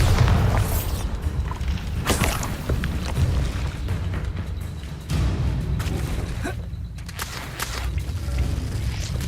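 A Bombarda explosion spell cast in Hogwarts Legacy, heard as loud booming blasts with a dense rumbling low end, a strong hit near the start and another around the midpoint, continuing as sustained roaring game effects.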